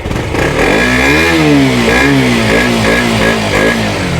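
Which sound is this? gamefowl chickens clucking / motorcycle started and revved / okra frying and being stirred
motorcycle started and revved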